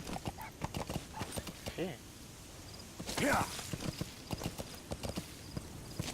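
A horse in the Metal Gear Solid V video game clip-clops along in a steady, close rhythm of hoofbeats, with a whinny in the middle and a brief spoken word over it.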